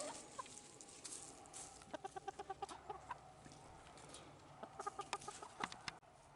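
Backyard chickens cluck in bursts of short rhythmic calls, some near and some farther off, over a steady outdoor background hiss with no talking.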